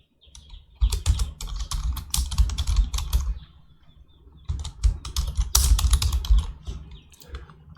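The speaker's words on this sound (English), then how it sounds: "let's continue typing." Bursts of rapid computer keyboard typing, close and clear, with a pause in the middle before the clicking resumes.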